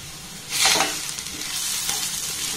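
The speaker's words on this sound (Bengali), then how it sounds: "আবার এটাকে একটু নাড়াচাড়া করে নেব" An egg mixture seasoned with cumin powder, coriander powder and salt is stirred in a frying pan, giving a soft sizzle with a brief louder scraping swirl early on, then a steady low frying hiss.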